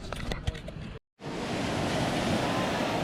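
Sea waves roll onto the beach at Finale Ligure in Italy as a loud, continuous roar of surf and wind. A brief dropout comes partway through, then the surf resumes at full level.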